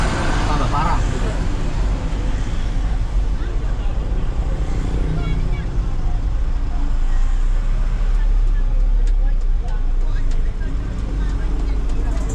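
Dense road traffic crawls through a jam on a highway where a roadside market has formed after an accident; a constant low engine rumble and drone fills the scene at close range, with a voice talking over it.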